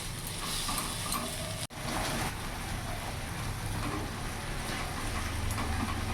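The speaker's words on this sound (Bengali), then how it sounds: "মশলাটা ভালো করে কষিয়ে নেব" Spice paste for a prawn and yogurt curry sizzles steadily while it is stir-fried in a pan over a medium flame. The hiss is continuous and close, with soft stirring scrapes and one brief break near the start.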